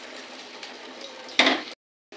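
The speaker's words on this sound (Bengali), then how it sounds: "আমি ভেজে দেবো" Baby corn pieces frying in hot oil in a pan for chilli baby corn, a soft steady sizzle with a short louder burst of stirring or scraping near the end before the sound cuts off.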